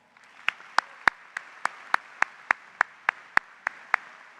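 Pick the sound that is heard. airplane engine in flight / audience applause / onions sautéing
audience applause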